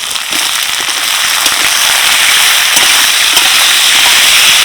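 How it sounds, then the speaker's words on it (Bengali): Chopped onion, capsicum and tomato sizzle loudly in a hot frying pan after garlic, a steady dense hiss with scattered crackles and pops running throughout, close and continuous with no voices. "ক্যাপসিকাম টমেটো পেঁয়াজ দিয়ে একটু নেড়ে নিলাম"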